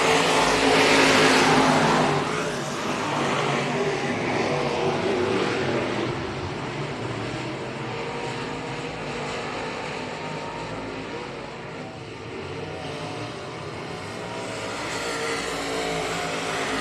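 Modified race cars roar through a Crate Late Model heat at Revolution Park, the engines loud and dense, surging near at the start and then holding a steady roar as the field runs past.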